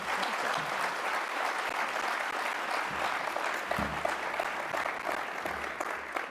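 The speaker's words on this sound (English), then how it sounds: "So can I get a bigger and warmer round of applause?" A symposium audience in Sydney gives a warm round of applause after a speech, a continuous wash of many clapping hands holding steady and fairly soft throughout, with a faint low rumble beneath.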